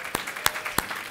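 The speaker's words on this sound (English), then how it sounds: "We cannot clap too much for these folks" Scattered, faint applause from an audience at an awards event, with a few sharp separate claps landing at uneven gaps and no crowd noise around them.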